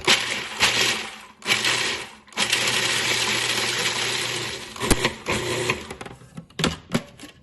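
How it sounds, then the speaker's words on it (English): A food processor pulses walnuts, buzzing loudly in bursts of whirring motor noise with short stops between them, ending in a few brief choppy pulses. "to pulse this to grind it as fine as we can. It would help if I plugged my processor in."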